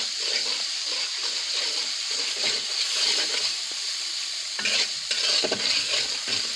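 Eggplant pieces being added to spiced masala frying in a pan, with a constant loud sizzle and then a louder burst of splattering, stirring crackle toward the end.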